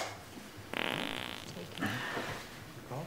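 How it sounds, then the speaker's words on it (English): A single fart breaks out abruptly, a fairly quiet buzzy burst of about a second that trails into softer sputters. "Did you just fart?"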